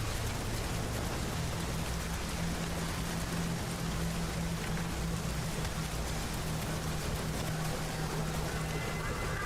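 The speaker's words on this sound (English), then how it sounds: "Oh, it's raining." Steady rain falls throughout a scene in the Demon's Souls remake, a dense continuous hiss with a low droning hum underneath and no talk over it.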